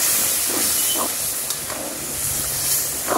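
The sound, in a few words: warm water added to hot pan of chicken curry, hissing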